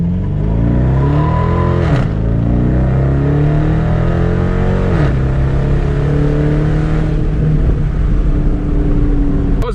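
A 2019 Dodge Charger R/T Plus accelerates hard with a loud, close engine roar that climbs in pitch, drops at two quick gear shifts, then keeps pulling.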